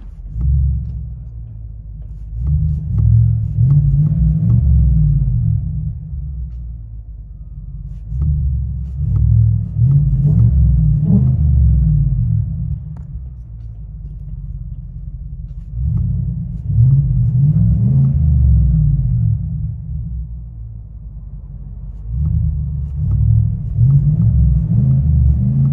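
Inside the cabin of a 2024 Chevy Tahoe 5.3L V8 with a Black Widow exhaust, the engine is heard as a low muffled rumble that swells in several rev bursts, subdued and bass-heavy.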